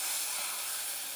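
Fajitas sizzling on a hot Weber griddle insert, giving a loud, bright, continuous hiss close up with no voices.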